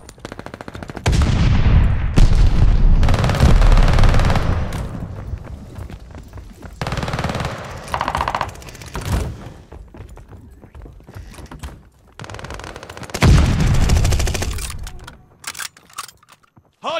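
Bursts of loud, close automatic gunfire in Call of Duty: Vanguard, several rattling volleys separated by brief pauses and scattered single shots.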